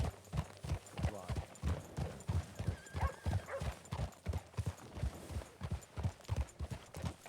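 A horse's hooves clip-clop steadily on hard ground, a close, regular rhythmic clopping that continues throughout with faint background noise.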